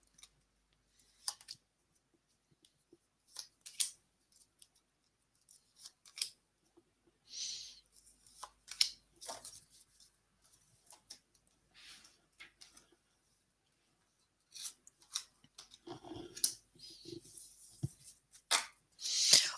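Tarot cards being shuffled and drawn during a reading, heard as faint, sparse papery rubs, snaps and soft clicks scattered across a quiet background, growing busier toward the end.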